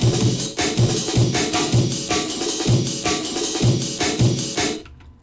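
Amen break drum sample looping loud and alone, a busy syncopated breakbeat of kick, snare and cymbals repeating in a steady rhythm before cutting off near the end.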